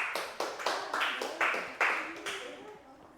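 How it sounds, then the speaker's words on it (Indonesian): A classroom of students claps for a classmate during a microteaching lesson, a short burst of irregular hand claps that peaks quickly and then thins out and fades. "Kasih tepuk tangan untuk Mbak Bilkis"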